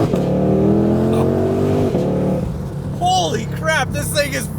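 A 760-horsepower 2022 Ford Mustang GT500 engine revs and accelerates hard, a loud, steady harmonic roar that builds and then shifts, with voices talking over it near the end.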